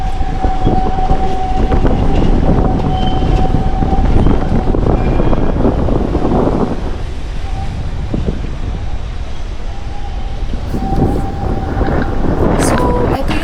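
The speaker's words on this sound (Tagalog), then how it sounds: "At the same time, super lakas talaga ng hangin." Strong wind buffets the microphone at the top of a viewpoint in The Hague, a loud, rough, continuous rumble with gusts, under a person talking.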